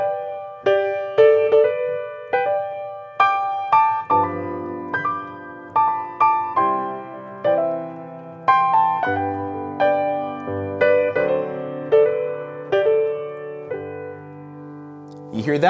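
Solo piano playing a waltz in slip-note style, with a harmony note added just above the melody; clear, close, unhurried waltz phrasing with bent-sounding grace notes and sustained chords.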